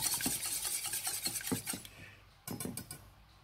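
Eggs whisked for banana cake batter in a bowl, brisk rhythmic scraping strokes at close range, pausing briefly before a fresh quick burst.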